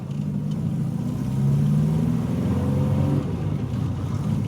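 Engine of a barn-find Austin Maestro with a manual gearbox, heard from inside while driving, a steady low drone that rises in pitch as it accelerates, dips briefly at a gear change, then climbs again.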